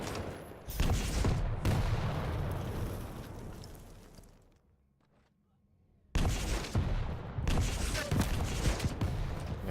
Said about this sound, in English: Oh, that was a heavier rocket than I realized.